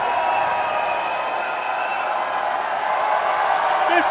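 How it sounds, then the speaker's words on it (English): A wrestling crowd at MLW Battle Riot VII roars continuously, a dense, steady wash of cheering and crowd noise with a brief whoop near the end. "Listen to the crowd."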